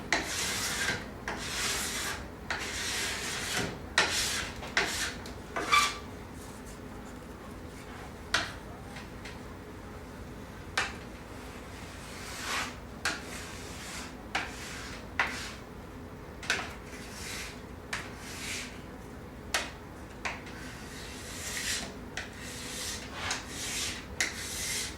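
Wax is rubbed onto a ski during tuning, producing repeated soft scraping strokes with sharper bursts at irregular intervals, close and fairly quiet with no talking.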